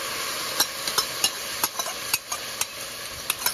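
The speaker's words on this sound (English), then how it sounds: "So this is fried nicely with a quick stir fry." Mushrooms stir-fried in a pan, with repeated sharp scrapes and taps of a utensil against the pan over a steady background hiss, the strokes coming in an uneven rhythm and moderately close.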